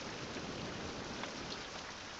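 Steady rain falls in a survival video game, a soft, even hiss of drops with a faint distant rumble, continuous and alone.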